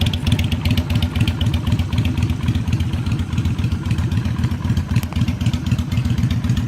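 A Yamaha Virago XV250 motorcycle being built as a bobber idles steadily with a loud, close, even rhythmic thrum and a little mechanical clatter, running alone throughout.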